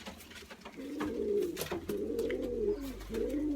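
A pet bird coos repeatedly in soft, rounded phrases, close and moderately loud, with brief pauses between the calls and no voices over them.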